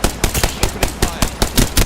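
Rapid, loud machine gun fire in a video game, about ten evenly spaced bursting shots in under two seconds, punchy and close with no pauses.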